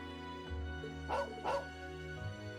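A dog in the video game The Legend of Heroes: Trails of Cold Steel gives two quick soft barks, close but fairly quiet, over a sustained musical background.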